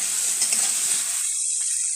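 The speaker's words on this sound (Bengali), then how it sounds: "তেল দিয়ে এবার আমি ডুমো ডুমো করে যে আলুগুলো কেটে রেখেছি সেগুলো ভেজে নেব।" Diced potatoes fry in oil in a wok with a steady, close sizzle that holds loud for the first second, then thins to a lighter crackle, with no voices.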